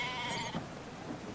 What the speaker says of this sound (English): What a funny little sheep.